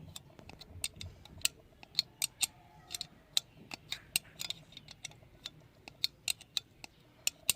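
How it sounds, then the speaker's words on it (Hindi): A bolt on a home-made 12-volt DC solar mini wall fan is tightened with a number 10 spanner. Close, sharp metallic clicks and ticks repeat at an uneven rhythm over a low background hum, with no voices. "ये मैं इसको टाइट कर रहा हूँ।"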